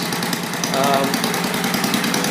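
A vintage Troy-Bilt Horse tiller with a freshly adjusted carburetor, its small engine running steadily at a fast idle close by, a constant buzzing chug with speech heard faintly over it.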